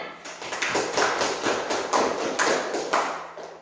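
A class of schoolchildren in a classroom claps together at the teacher's prompt, a run of rhythmic, fairly even group claps repeating at a steady beat for several seconds.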